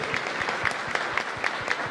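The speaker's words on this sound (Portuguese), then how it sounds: "Vamos aplaudir ao Senhor." A church congregation applauds during an evening service, a steady wash of many hands clapping throughout with a few sharper claps standing out, fairly close and continuous.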